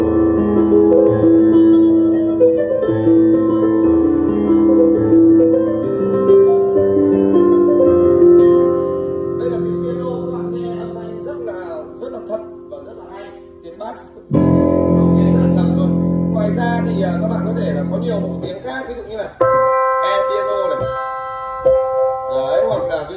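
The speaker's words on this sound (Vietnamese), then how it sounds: "các bạn có thể nghe tiếng piano của nó nhé." A Yamaha beginner digital piano sounds its piano voice in a showroom, playing a melodic passage of sustained chords and runs that pauses, then resumes with a strong chord and further notes.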